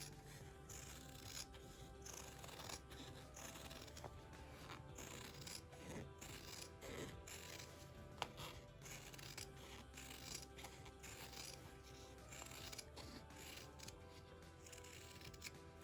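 Scissors snip and crunch through fabric for a seam-allowance trim around an appliqué rope bowl, a series of quiet, close rhythmic cuts with rustling of the material between them.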